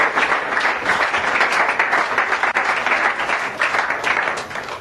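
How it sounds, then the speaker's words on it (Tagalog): Steady applause from a church congregation fills the room, a dense wash of many hands clapping at near-constant loudness from start to finish. "Palakpak po natin si Lord."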